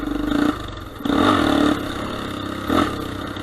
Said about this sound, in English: if you hear the exhaust note, you might know it's a little bit more archy and heavy and deeper